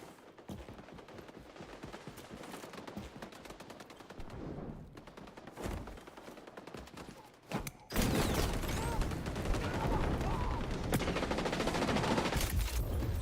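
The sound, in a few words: P90 submachine gun firing at long range in video game XDefiant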